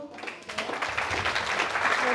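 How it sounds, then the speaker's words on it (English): A group applauds at a chat event, the clapping starting sparse and building into a fuller, steady patter over about two seconds. "please give applause to"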